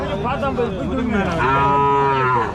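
Cattle mooing at a busy Tamil village cattle market, with a long, loud bovine moo rising clearly over a crowded background of chatter and livestock noise.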